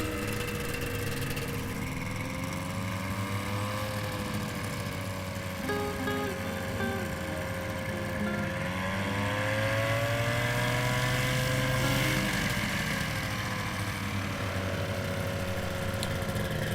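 Engine of an Aerolite 103 ultralight aircraft taxiing on the ground, a steady droning hum with shifting pitch that rises and falls as the throttle changes, continuous and fairly close throughout.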